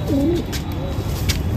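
A single short, soft coo from a high-flying andha pigeon, close and brief, over a steady noisy background.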